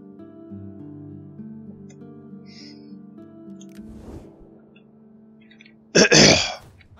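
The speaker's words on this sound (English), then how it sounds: "I just barely survived that coughing incident over there." A single harsh burst of throat clearing or coughing comes through close and loud near the end, after a stretch of quiet, steady background tones.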